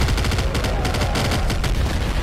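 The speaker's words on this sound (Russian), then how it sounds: "Господи, сколько здесь взрывов," Dense gunfire and explosions pour out of the video game Nuclear Throne, a loud continuous barrage of rapid shots and booms with no pauses.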